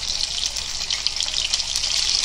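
Chicken pieces go into hot oil in a kadai for a chicken curry cooked without onion, producing a steady, loud hissing sizzle that fills the whole stretch without pause.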